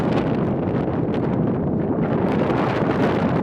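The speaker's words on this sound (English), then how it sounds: "You might be able to hear how windy it is." Strong wind gusts across a campsite near the Tabernacle lava tubes, hard enough to shake a parked vehicle, as a steady, loud broadband roar of buffeting wind on the microphone with no pauses.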